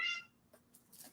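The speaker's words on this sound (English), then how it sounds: "Oh, sorry, that's my cat. She's yelled." A house cat gives one brief, bright meow at the start, followed by faint rustling in a quiet room.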